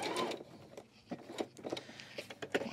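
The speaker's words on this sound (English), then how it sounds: "I'm going to just pivot and I'm going to sew off the corner" A sewing machine stitching quilt binding off the corner after a pivot, heard as quiet, close, uneven bursts of needle chatter and motor whir with brief pauses.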